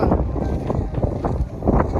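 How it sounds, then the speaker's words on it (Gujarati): Strong wind at Mandvi beach in Kutch buffets the microphone in a loud, continuous roar with gusty surges, and no voices come through. "અહીંયા પવન એટલો સખત છે"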